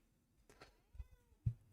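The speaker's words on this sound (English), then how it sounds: "He's meowing." Pet cat meowing softly indoors, a faint short mew followed by a couple of quiet low chirps close by, with a mostly still background.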